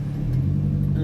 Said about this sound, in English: Warm-up lap with the Golf.